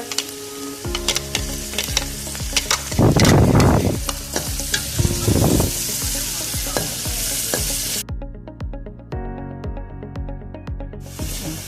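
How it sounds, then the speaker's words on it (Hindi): Steady sizzling of ginger garlic paste frying in oil with onions in a hot pan, with scraping stirs and clinks of a spoon, and louder bursts of crackling partway through. "हमारा अदरक लहसुन और प्याज जो है ना, ये भून चुका है।"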